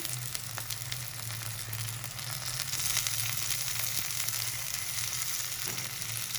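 Chicken pieces sizzling in a pan with light-browned onions, a steady soft frying hiss with low oil crackle, fairly quiet and without voices.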